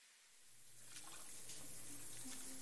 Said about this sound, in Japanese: なんで急にシャワー浴びてんの？